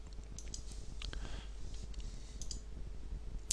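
A computer mouse clicks faintly a few times against a quiet background hiss, soft isolated taps with no speech.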